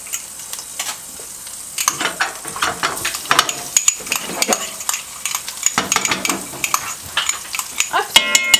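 Garlic sizzling in olive oil in a large stockpot, loud crackling fry with busy stirring and clinks of a utensil against the metal pot, close by.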